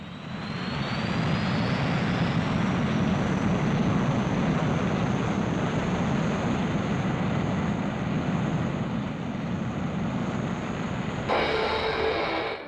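Early jet aircraft powered by a gas turbine engine, a loud continuous roar with a faint high whine sliding in pitch, sustained without letup for over twelve seconds before cutting off.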